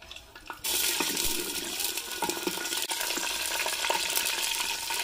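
Bay leaves, cinnamon and cumin frying in oil, a sudden loud sizzle bursting in after a quiet moment and then holding steady and close, with faint crackles running through it.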